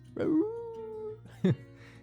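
A voice imitates a whimpering dog, giving a rising yelp, a long thin sustained whine, then a second short yelping cry, close and fairly loud.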